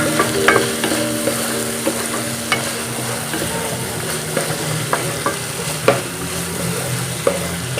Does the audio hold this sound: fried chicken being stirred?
yes